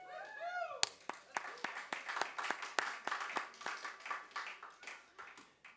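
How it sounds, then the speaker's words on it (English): Live concert audience applauding after a voice fades out: a dense run of sharp, closely spaced hand claps at moderate loudness, tapering off toward the end. "Let's have another round of applause for Justin real quick."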